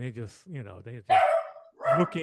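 A dog barks a few times nearby, sharp yapping cries that overlap and follow a man's speech.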